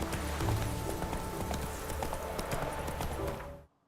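Roach the horse galloping in The Witcher 3, rapid rhythmic hoofbeats pounding steadily at close range before cutting off abruptly.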